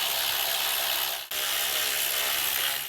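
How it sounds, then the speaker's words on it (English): A ratchet loosens the 10 mm valve cover bolts on an Acura MDX, a continuous close, buzzing clicking that pauses briefly midway before resuming, with no talking. "Let's go ahead and pull off our valve cover fasteners. There should be 5 10 millimeter bolts."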